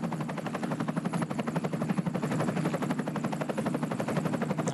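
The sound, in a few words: helicopter flying over a cycling race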